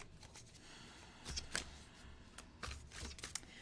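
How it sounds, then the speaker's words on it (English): Tarot cards riffled and shuffled by hand in short, papery bursts, close and fairly quiet, with several flurries spaced across a soft room background. "I'm just going to keep shuffling"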